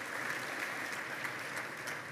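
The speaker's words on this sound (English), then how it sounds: "Let's give her a warm round of applause." An audience at a global AI summit in Kigali applauds to welcome a panelist onto the stage, a steady, even wash of clapping held at moderate level for the whole stretch with no voices over it.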